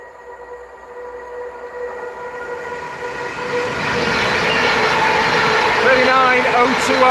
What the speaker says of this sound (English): It's another Pendolino.